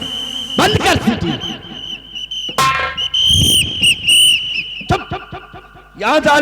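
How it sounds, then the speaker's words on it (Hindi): Shrill whistle blasts in a Hindi dacoit drama scene, several sharp tonal bursts repeating across the passage amid loud, busy background noise, with voices speaking between them. "बंद कर सीटी।"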